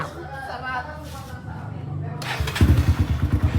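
Enduro dirt bike engine rumbling close by, its low pulsing rhythm rising louder in the last second, while a person talks over it throughout.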